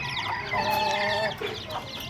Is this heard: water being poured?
no